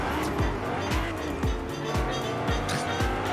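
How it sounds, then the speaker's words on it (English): Cars in Fortnite race past in a loud, busy blur of engine roar, with repeated tire squeals and skids sweeping through in quick succession and faint voices mixed in. "I just hear so many cars."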